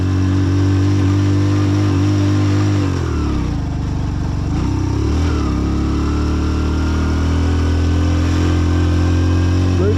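A Hero Passion Pro motorcycle labours uphill on a high Ladakh mountain pass, its engine a loud, close, continuous drone whose pitch sags briefly partway through before steadying again.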